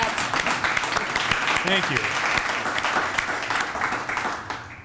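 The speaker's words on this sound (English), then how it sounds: "we're going to clap for that" Audience applause at a mayoral launch event for an employment program, a steady wash of clapping filling the hall for several seconds, with a voice speaking briefly over it.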